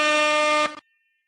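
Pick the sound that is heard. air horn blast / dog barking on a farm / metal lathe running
air horn blast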